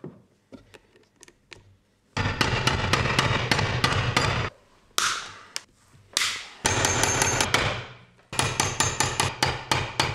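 Hammer blows drive rivets into a leather toolbag, with a few light taps first, then long runs of rapid, loud, sharp strikes separated by short pauses.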